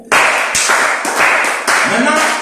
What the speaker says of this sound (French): Gars, applaudissez pour vous.